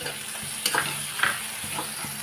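Onion and capsicum with ginger paste fry in a pan, a low sizzle with a couple of stirring scrapes and clatters over about two seconds, close, no talking.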